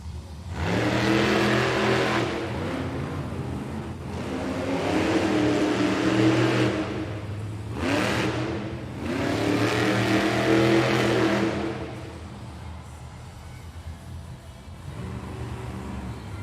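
Kylie Kent's Sparkle Smash monster truck revs hard in a Monster Jam arena run in Hamilton, Ontario: loud, close engine roars that surge and fall several times, with a brief lull before a final quieter rev.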